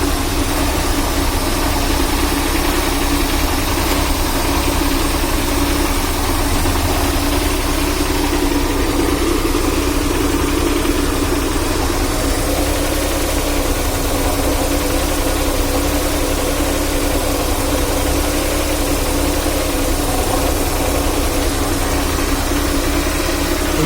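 A Maruti 800 engine fitted with an HHO fuel cell kit idles steadily and evenly, a loud close drone with a low rumble and faint vibration, running alone without any talk.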